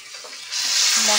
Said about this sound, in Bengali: ওদিকে পুড়ে যাচ্ছে মাটন আমার।